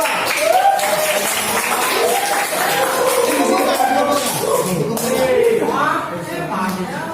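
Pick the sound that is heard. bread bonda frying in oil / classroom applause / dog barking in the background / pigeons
classroom applause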